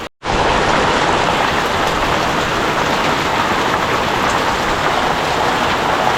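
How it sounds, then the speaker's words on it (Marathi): Heavy monsoon downpour in Konkan, a dense, loud and unbroken roar of rain drumming on surfaces, close and constant after a brief silent start, with no voices. "कसला भरमसाट पाऊस आलाय बघा"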